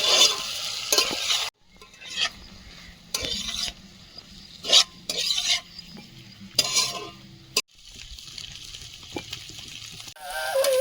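Potatoes with spice paste are stirred and fried in a pan, giving bursts of sizzling and spatula scraping separated by brief quiet gaps, close and without talk.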